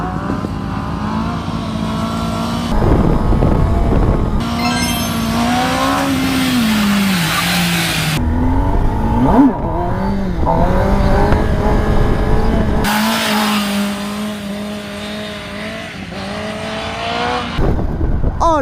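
A powerful motorcycle ridden hard, its engine revving and pitching up and down through gear changes, with some tire skidding mixed in; the sound stays loud and close throughout.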